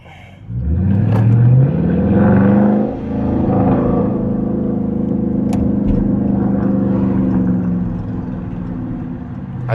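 Car engine of an RT on 245-size tires, heard from inside during a drive: a loud, steady low rumble that rises as it revs early on, briefly eases, then holds a strong droning pull before tapering slightly.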